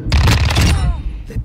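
Rapid, loud gunfire from Call of Duty: Modern Warfare aimed at the player, dense bursts of shots close by for about a second before tailing off into quieter game sounds.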